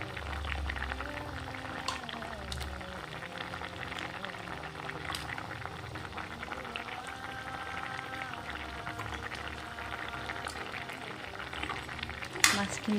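A fish curry with pumpkin simmering in a wok (kerahi), steady bubbling and low sizzle running throughout at moderate level, with a brief louder clatter near the end.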